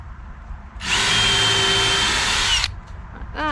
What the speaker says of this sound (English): So I'm going to grab my pilot drill,